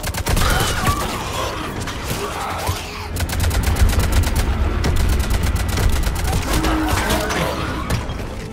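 Sustained gunfire in the Mass Effect 3 video game, rapid automatic bursts with dense clattering shots layered over rumbling battle noise, continuous and loud.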